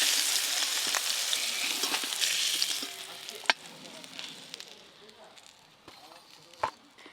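Eggplant pieces lightly frying in a pan, a soft, continuous sizzle that is strongest at first and then quiets, with occasional sharp clicks and stirring sounds.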